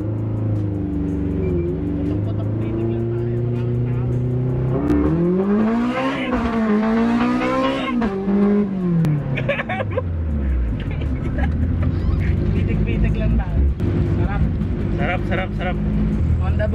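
A 1993 Honda Civic EG hatchback with a B20 VTEC engine revs hard and accelerates, its engine note sweeping up and down through several loud, close pulls, with voices talking over the noise at times.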